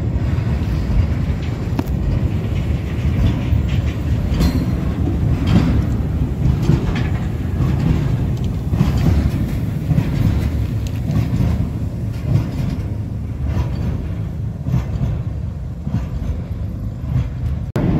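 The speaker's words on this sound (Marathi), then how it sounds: "खडी टाकत टाकत ही राजुरीला चालली आहे." Continuous low rumble and rattle of a freight train carrying gravel rolling slowly along the tracks near Rajuri, steady and moderately loud with irregular clanks throughout.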